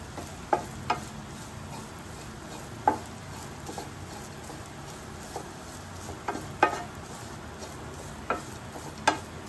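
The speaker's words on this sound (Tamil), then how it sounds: "இது நல்லா தேங்காய் வந்து மணல் கலரில் நல்லா வறுக்கணும்" Grated coconut dry-roasting in a pan for a Kerala-style varutharacha chicken curry, stirred with a spoon: a faint dry rustle under scattered sharp scrapes and taps against the pan, fairly evenly spaced, with no voices.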